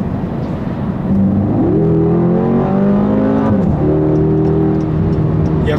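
A 2012 BMW X6M with a 4.4-litre twin-turbo V8 and sport exhaust revs and accelerates hard, its engine note climbing, dropping at a gear shift and climbing again, loud and close with no talking.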